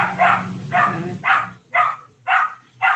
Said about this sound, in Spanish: Porque está mi perro ladrando